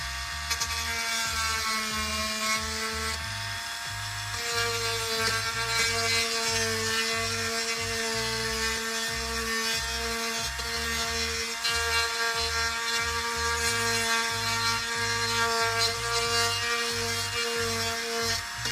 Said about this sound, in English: A good Dremel on a low speed with a good sanding bit will help me clean up this curved area and remove all the black.